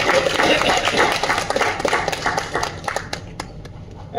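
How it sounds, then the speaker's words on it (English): A crowd at a half marathon event in Kolkata gives a round of applause, dense steady clapping that thins and fades toward the end. "Please give a round of applause to"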